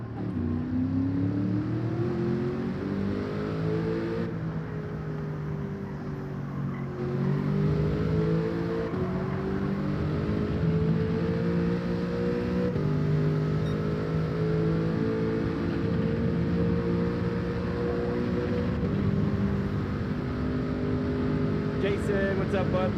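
A car engine in the racing game Gran Turismo 7 drones continuously, its pitch climbing and dropping through repeated gear shifts while accelerating, loud and close throughout.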